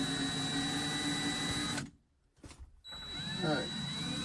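A drill bores into the metal of a shift collar on a 1979 Chevy/GMC truck, a steady whining drone that cuts out briefly and then resumes, with a voice speaking over it.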